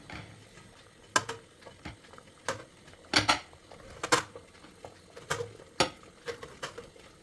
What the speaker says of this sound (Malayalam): ബാറ്റർ ഒഴിച്ച ബൗൾ ഓരോന്നായിട്ട് സ്റ്റീമറിലേക്ക് വെച്ച് കൊടുക്കാം